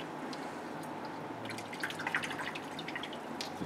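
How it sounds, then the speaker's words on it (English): Water drips and trickles while a carved bust is washed out, a faint scatter of small splashes and patters close by, growing slightly busier toward the end, with no talking. "Get some water on there."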